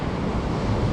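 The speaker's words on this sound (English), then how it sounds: "You can hear the ocean" Steady low rumbling wash of Pacific surf in San Francisco, continuous and broadband, with wind-like noise over the microphone and no distinct breaks.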